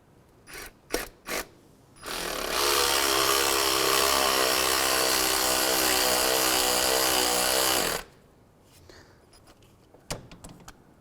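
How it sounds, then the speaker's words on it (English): A power tool with a 12mm socket runs steadily for about six seconds, snugging an alternator mounting bolt on a 2011-2016 Hyundai Elantra, with a few clanks before and after. "The 12mm socket, we'll snug up this bolt."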